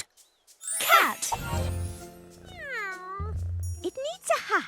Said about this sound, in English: My favourite pet is a cat.